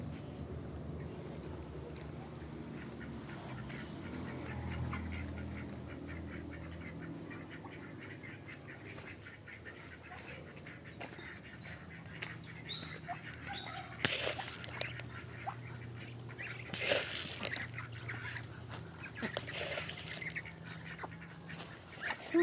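Ducks quacking near their nesting area on a rainy backyard farm, scattered calls rising over a low steady background hum, with a few louder bursts later on.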